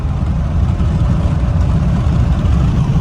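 A 2018 or 2019 Ford F150 EcoBoost with a 10-speed transmission at about quarter throttle gives a low, steady engine drone from inside the cab, with no distinct shift breaks standing out.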